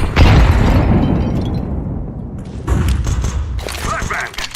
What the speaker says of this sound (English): I'm throwing the flashbang!